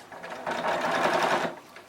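A sewing machine stitches fabric with a brief, close whirring burst that rises, holds steady for about a second, and then stops.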